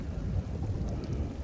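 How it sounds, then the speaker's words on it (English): Heavy rain falls during a big thunderstorm with a steady dense hiss of drops and a low rumbling undertone, constant and fairly close throughout. "Still raining pretty good."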